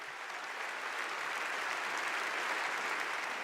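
Delegates at a national political convention applaud in a steady, dense wash of clapping that holds at an even level throughout, with no speech over it.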